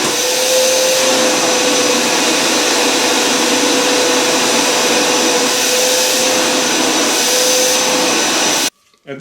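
A Kalorik water filtration vacuum cleaner runs on carpet with a loud, close, steady motor whine that holds for several seconds and then cuts off abruptly.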